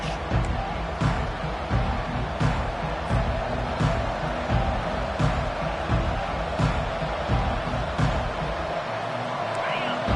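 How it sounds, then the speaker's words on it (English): A football stadium crowd at Ohio State versus Clemson keeps up a dense, loud roar of cheering and noise, with a play-by-play voice talking over it. "This crowd trying to show them what it's going to be like all day in this house."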